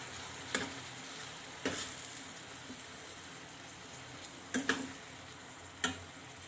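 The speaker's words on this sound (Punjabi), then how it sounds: "ਜਿਹੜੀ ਆਪਾਂ ਲਸਣ ਅਦਰਕ ਹਰੀ ਮਿਰਚ ਦੀ ਪੇਸਟ ਬਣਾਈ ਹੈ ਨਾਲ ਹੀ ਆਪਣਾ ਲਸਣ ਅਦਰਕ ਤੇ ਹਰੀ ਮਿਰਚ ਵੀ ਭੁੱਜ ਜੂਗੀ" Garlic, ginger and green chili paste fries quietly in a pan, a soft steady sizzle broken by several sharp clicks of a utensil against the pan.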